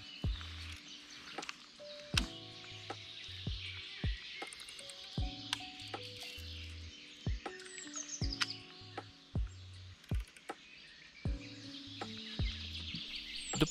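Birds in a wild canal of the Danube Delta near Murighiol give many short, sharp chirps and calls in irregular bursts against a quiet background.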